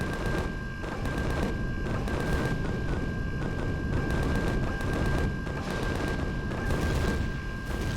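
Sustained gunfire and heavy booming in Empyrion Galactic Survival fill the air with dense, continuous shots and explosions, loud and steady throughout with a constant high whine running underneath.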